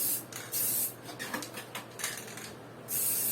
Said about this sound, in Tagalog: Ang pagpipintura ng ganitong spray, onti-unti lang.